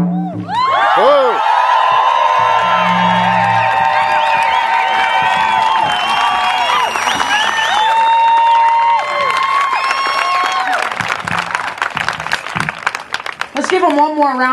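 Rally crowd at a Standing Rock day of action cheering, whooping and chanting loudly, with clapping breaking out near the end as the noise thins into scattered applause.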